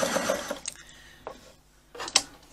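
A Toyota Atlantis sewing machine runs in short bursts, its needle whirring through stitches in quick rattling spurts separated by brief pauses, close and clear.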